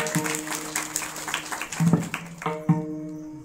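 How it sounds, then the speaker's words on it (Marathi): Crowd applause at a devotional kirtan gathering, a broad wash of clapping hands with a sustained harmonium-like drone beneath, fairly loud and continuous with a few sharper bursts. "एकदा आमच्या शंकर दादासाठी सुद्धा जोरदार टाळ्या वाजवा"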